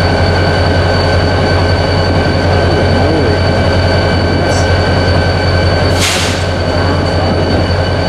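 A remote-controlled locomotive switches railcars at a Denver rail yard, a loud constant rumble and drone with steady tonal hum, wheels squealing and a sharp screech burst partway through.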